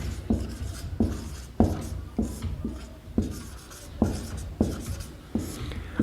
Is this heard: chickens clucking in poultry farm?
no